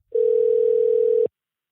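A landline telephone dial tone heard as a call is placed: one steady, loud, unbroken electronic tone lasting about a second, starting and stopping abruptly, with silence around it and no talking.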